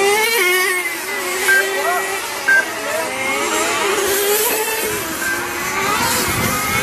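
Nitro-powered RC touring cars race around a track at CMCC, their small engines whining and rising and falling in pitch as they pass, with a commentator talking over the steady buzz.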